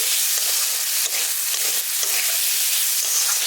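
Potatoes and spices sizzle steadily in hot oil for a village-style spinach potato curry, a dense, loud, close frying hiss with faint stirring scrapes and no talk.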